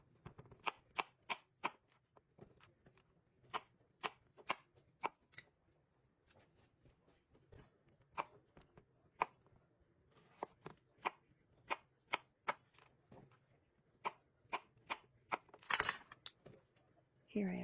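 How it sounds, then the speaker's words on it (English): Calabaza squash being chopped with a knife on a cutting board for Mexican chicken soup: a steady series of sharp, close knife strikes in uneven rhythm, with brief pauses and a few quieter taps. "and then cutting up the calabaza"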